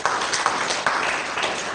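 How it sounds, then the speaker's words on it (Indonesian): Church congregation applause, a steady crackle of many hands clapping together at moderate loudness with a few sharper claps standing out. "Lalu beri tepuk tangan bagi kita."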